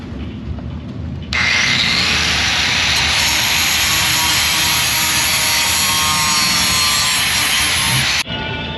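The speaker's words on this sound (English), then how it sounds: "I'm gonna go get a grinder, notch it out a little bit to make the shim work" Loud, steady whine of a grinder cutting a metal starter shim in a race garage, starting abruptly and running continuously for about seven seconds before stopping sharply.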